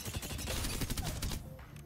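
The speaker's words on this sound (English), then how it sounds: "next up, the Vault, one of my favorite SMGs" Volt SMG firing in Apex Legends, a rapid close burst of automatic gunfire, dense evenly spaced shots for over a second before cutting off, alone without talk.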